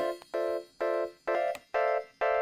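Synthesizer chord with strum control at zero, all notes sounding at once, repeated as six bright sustained chord stabs in an even rhythm, close and clean.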